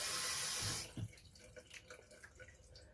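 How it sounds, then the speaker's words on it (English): Kitchen water tap running in a steady hiss for under a second before shutting off, leaving quiet room sounds and a few small clinks. "And here is my dinner without the sound of the fucking tap going off."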